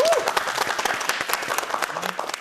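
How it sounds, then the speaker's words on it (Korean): Audience applause welcoming a professor's lecture on King Gwanggaeto at a Gangwon history program, brisk dense clapping throughout with a faint voice briefly audible near the start. "여러분 박수로 이 강연을 좀 청해주겠습니다"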